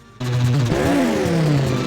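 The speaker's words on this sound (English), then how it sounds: "Even the engine sound craps out." A droning jet ski engine in Wave Race 64 starts abruptly and holds a steady buzzing tone, its pitch wobbling and briefly dipping from a sound glitch before settling again.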